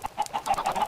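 Chickens on a Minecraft chicken farm clucking in quick repeated short calls, a steady run of bright pecking clucks close by with no talk.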